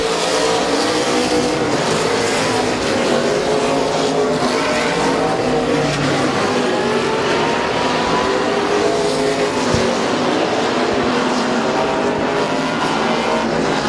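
Race cars roar around Midvale Speedway in a dense, continuous wall of engine noise with shifting pitches as cars pass, loud and unbroken for the whole stretch.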